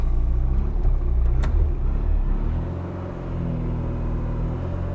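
A classic Mk1 Austin Mini Cooper engine running at high idle on choke, a steady close rumble with a low, even drone that settles slightly lower partway through, with no talking.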